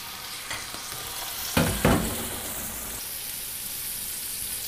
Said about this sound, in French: Un morceau de beurre, un peu d'huile d'olive, une poêle bien chaude pour pouvoir saisir notre filet de bœuf.